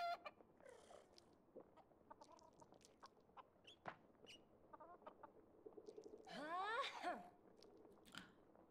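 A chicken in the farming game Fae Farm clucks in short scattered bursts, then gives a louder run of clucking near the end, fairly faint against a quiet background with some soft crunchy noises.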